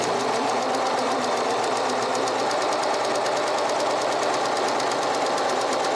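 A Pfaff Select Series sewing machine stitching quilt fabric with a quarter-inch foot, running in a steady, rapid mechanical chatter at close range, loud and unbroken.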